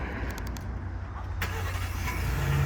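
A Ford F-150 XLT pickup with the 2.7-liter EcoBoost engine cold-starts: a brief starter crank and catch, then a low steady idle rumble that grows slightly louder and settles, close by with no talking.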